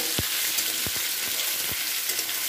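Young drumsticks (sajne data) sizzle steadily in a pan while being stirred, with several distinct scraping strokes of the spoon against the pan over a constant hiss; no talking.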